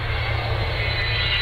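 Small propeller aircraft flying alongside an Avro Vulcan bomber at an air show, a continuous droning engine roar with a low throbbing hum, steady and fairly loud throughout the brief moment.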